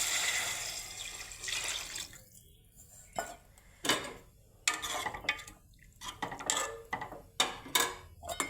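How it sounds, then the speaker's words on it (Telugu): Water splashes into a hot pan of cooked tomato and onion for upma, with intermittent clatters of a vessel and utensil against the pan, fairly quiet and close. "ఇప్పుడు వాటర్ వేసుకోవాలి."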